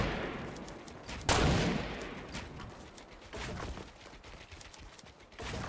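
Gunfire in a Fortnite battle royale match, with a sharp loud shot followed by a decaying rumble and scattered further shots and impacts in busy game noise; no talking.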